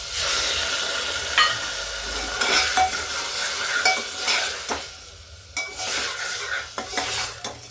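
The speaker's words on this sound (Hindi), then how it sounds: "अब इस मसाले को हम भूनेंगे।" Spice masala roasting in a pan with peas and cluster beans: a steady close sizzle with scraping, clinking strokes of a stirring spoon, and no talking.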